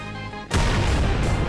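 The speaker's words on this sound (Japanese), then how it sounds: "お、ジャンプ爆発ね。" A sudden booming blast from a jump explosion attack in a Roblox game, one sharp heavy impact after a brief tonal lead-in, followed by a loud rumbling, crackling tail.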